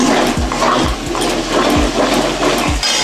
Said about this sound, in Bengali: আমি একটু জল দিয়ে দিলাম, মশলাটা কষাবো